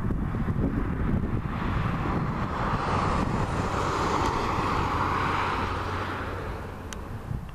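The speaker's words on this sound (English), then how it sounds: "the cars create a little bit of traffic noise" Steady roar of cars passing on a lightly travelled highway, mixed with gusty wind buffeting the microphone, a continuous broadband rumble that swells slightly and fades toward the end; no speech.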